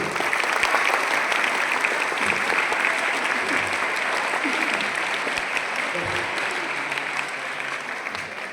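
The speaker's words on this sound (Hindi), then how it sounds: "जितना अच्छा लगा उतनी जोर से ताली बजाइए" An indoor audience claps steadily throughout, a dense, sustained wash of applause from a crowd at a youth group gathering, fairly loud and close, thinning slightly toward the end with no voices standing out.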